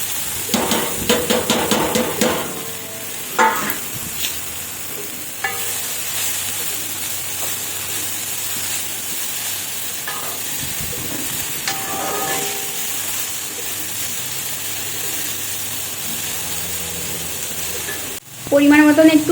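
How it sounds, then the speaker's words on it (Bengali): Cashews, raisins and other ingredients sizzle in hot oil in a pan, a continuous frying hiss with occasional stirring scrapes and clatters, ending in a louder burst of sizzling as more goes in. "কাজু কিশমিশটা কিন্তু ভেজে ফেলেছি, এবার একে একে এগুলোর সমস্ত কিছু ভেজে ফেলবো"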